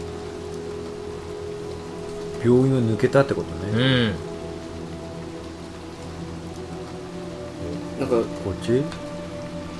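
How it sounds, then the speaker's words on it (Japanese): Rain falling in the horror video game Little Nightmares 2, a steady hiss running continuously beneath two people chatting. "また雨降ってんのか？"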